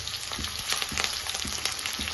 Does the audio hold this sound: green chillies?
yes